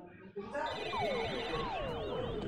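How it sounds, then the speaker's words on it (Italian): A telephone rings in the Sam & Max Episode 301: The Penal Zone computer game, a warbling electronic trill with shifting pitch, layered over game music and effects, and a voice speaks over it. "Ah, ma stava qui il telefono di Sibyl!"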